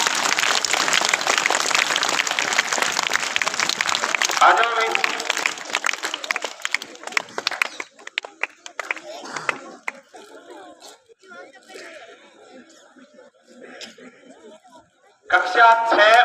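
A school crowd claps loudly for four high-scoring students, dense steady applause that fills the first half and then thins into scattered claps and murmuring, with a voice briefly calling out.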